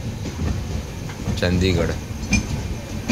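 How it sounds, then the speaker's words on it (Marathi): A train rolls past at Chiplun station on a misty morning, heading toward Mumbai, a low rumbling clatter with faint metallic clinks, partly under a voice speaking nearby. "ते समोरची ट्रेन चालली आहे मुंबईला"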